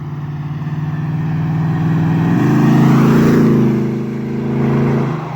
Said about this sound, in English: This will be a wide open throttle pass.